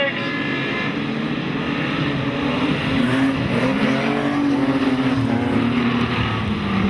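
Speedcars race at Maryborough Speedway during a night of the Queensland Speedcar Title, engines roaring continuously with rising and falling pitch as cars pass, while a commentator calls the race over the top.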